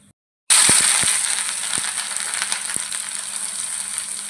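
Grated carrot frying in hot ghee, a loud dense crackling sizzle that bursts in abruptly and carries on steadily, with occasional sharp pops and spoon knocks.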